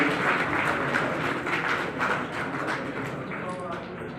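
Steady applause from an audience at a welcome ceremony, a continuous rustling patter of many hands, with voices mingling underneath and a faint tone near the end.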